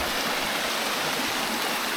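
The waterfall and stream at Middle Black Clough pour in a constant, dense broadband rush of falling and flowing water, steady and unbroken with no voices.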